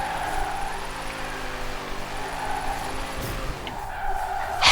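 A 1988 Holden VL Commodore Group A SV spinning its wheels and drifting in Forza Horizon 4: a sustained engine drone with tire skidding, rising and falling as the car slides, fairly loud and continuous.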